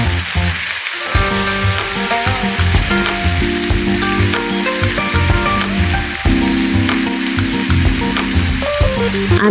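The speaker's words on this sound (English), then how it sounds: "Heat oil and carefully deep fry the rolls for 3 to 4 minutes" Chicken veggie rolls deep fry in hot oil, a loud, constant bubbling sizzle with fine crackles that runs unbroken throughout, apart from a brief dip near the start.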